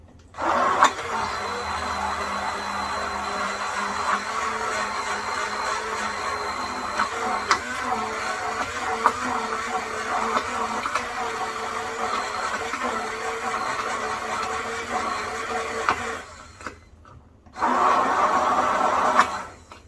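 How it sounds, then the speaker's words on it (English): A blender whirs steadily while making homemade mayonnaise, a loud continuous motor drone that briefly cuts out near the end and then resumes at full strength, with faint voices in the background. "And then just continue to blend it."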